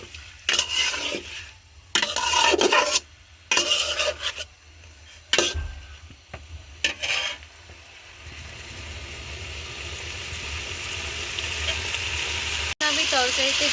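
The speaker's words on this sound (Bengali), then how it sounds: "দিয়ে দিচ্ছি ভেজে রাখা ফুলকপি।" Fried cauliflower tipped into hot oil-rich masala for a Bangladeshi prawn and cauliflower curry, loud bursts of scraping, stirring and rasping sizzle in several spurts, then a steady even frying hiss.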